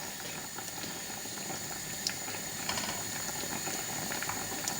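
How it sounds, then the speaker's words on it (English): Penne pasta bubbles in a pot of boiling water, a continuous soft rolling burble with scattered small pops and clicks, fairly quiet and close, no voices. "The pasta has been cooking for 6 minutes now. It's starting to soften."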